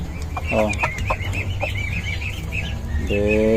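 Chickens cluck repeatedly at close range around a coop of small-egg-laying hens, with a couple of longer harmonic calls and steady farmyard background noise.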